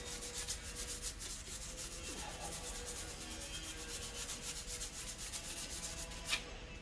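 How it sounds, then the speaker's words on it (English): Brush scrubbing tar spots and brake dust off an alloy wheel on a BMW Alpina, a continuous rapid back-and-forth rubbing heard close up, alone, with no pauses. "I'm just going to keep scrubbing and get rid of all these tar spots and brake dust that's impregnated."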